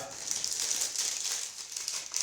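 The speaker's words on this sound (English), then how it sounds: "And let's go through this plastic bag right here. Let's open it up." Plastic bag of a blood test kit being opened, a continuous close crinkling and rustling of thin plastic for a couple of seconds with no talk.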